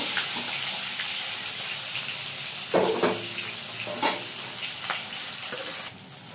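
A whole hilsa fish fries in hot oil in a pan, giving a loud, continuous sizzling hiss with occasional spitting pops and a few soft clinks of a utensil.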